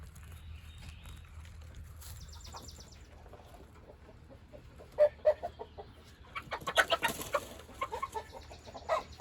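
Chickens in a garden setting cluck in scattered, short bursts, sparse and quiet at first and then busier, with a few near, louder clucks standing out over a low background.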